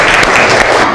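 A primary school religious-studies class claps together, a loud, dense burst of children's applause filling the short moment without talk.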